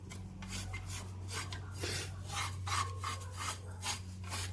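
A rear brake rubs with a steady, faint scraping rasp over a low hum, looping on and off in soft repeated swells.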